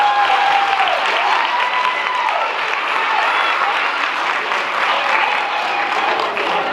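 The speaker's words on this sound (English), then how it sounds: "One more round of applause" Sustained, loud applause fills a hall after a Rotary singing night performance in Laurens, South Carolina, an even wash of clapping from a large audience with faint cheers mixed in.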